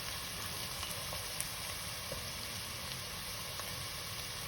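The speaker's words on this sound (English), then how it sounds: "So now frying of the onion for 2-3 minutes is done." Onions sizzle in a pan for Punjabi dhaba-style masala chicken, a steady, even hiss of frying with faint crackles throughout, close and constant with no talk.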